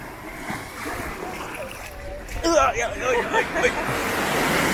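Sea waves splash and wash onto the shore at Varazze, a steady surf hiss with a louder burst of splashing partway through, while people chat nearby.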